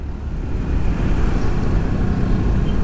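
A car pulling away on a main road in Bali, a low rumbling engine and road roar that swells slightly, continuous and close from inside the vehicle.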